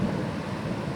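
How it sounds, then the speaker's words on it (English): Rain and thunder in the video game Farming Simulator 22, a dense, steady low rumble of rain and rolling thunder filling the whole short moment, fairly loud and without talk. "And it's finally starting to rain."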